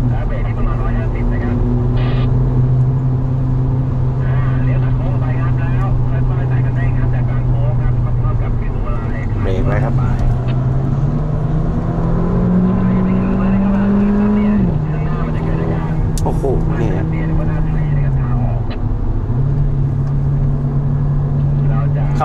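A Mercedes-AMG CLA engine roars under load during a test drive, a sustained loud drone that rises and falls with revs while someone talks excitedly over it.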